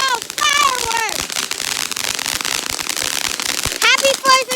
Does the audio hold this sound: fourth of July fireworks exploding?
yes